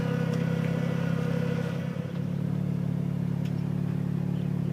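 A mechanical rice planting machine drives through a flooded paddy, its small engine humming loud and steady nearby, with a brief dip and faint splashes and mechanical clatter on top.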